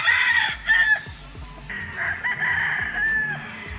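A pure Sweater-bloodline gamefowl stag at a gamefarm crows loudly and close by in repeated bursts, with other fowl clucking and calling around it.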